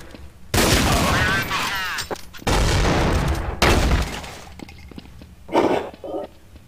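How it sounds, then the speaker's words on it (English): Gunfire and a grenade blast in Counter-Strike: Source, heard as two long, dense bursts of loud rattling shots and a rumbling explosion, then a quieter tail with a short sharp burst near the end. "Crap, throw that grenade."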